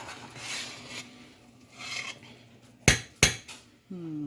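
A spoon folds a chicken and stuffing casserole mixture, with soft scraping and squelching followed by two sharp metal clanks against the dish, a voice briefly speaking near the end.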